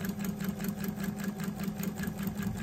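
A sewing machine runs steadily while stitching paper-pieced quilt pieces, a close, continuous motor hum with a fast even stitch rhythm and no talk.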